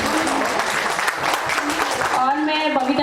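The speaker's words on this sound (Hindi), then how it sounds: "आज महिलाओं का दिन है और जोर से ताली होनी चाहिए।" An audience at an International Women's Day event held by a social organisation breaks into dense, lively applause, with a voice speaking over the clapping toward the end.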